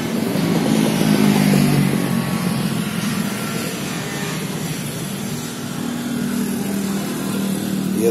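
A 2012 Eicher 485 Hydromatic Super DI tractor engine runs steadily at idle with a continuous loud mechanical chug, close by and without speech.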